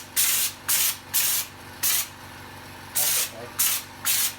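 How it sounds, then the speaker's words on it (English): A spray gun applies Raptor coating to the flares of a 200 series Land Cruiser in seven short, even bursts of loud hissing with brief pauses between them. "A bit sloppy first out of the gun, probably because I had that thinners in there. I sprayed a bit on the ground"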